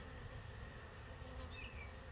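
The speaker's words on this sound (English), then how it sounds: "If she's not in there, like my first nuke I made, they'll start buzzing." Honeybees in a small nuc hive split without their queen give off a steady, low, continuous buzzing hum. It is quiet and unbroken, with no voices.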